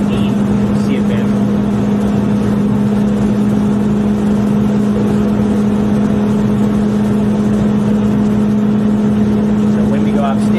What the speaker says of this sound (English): that fan is moving 1015 CFM